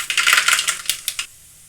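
Mustard seeds spluttering in hot oil for a North Karnataka tomato saru, a rapid burst of sharp crackling pops close up that thins to a few isolated pops and then stops.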